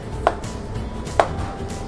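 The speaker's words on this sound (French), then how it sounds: "on va passer à la découpe" Two sharp knife chops on a cutting board through smoked chicken, spaced about a second apart, close and distinct over a low room hum.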